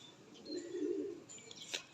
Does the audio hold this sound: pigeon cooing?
yes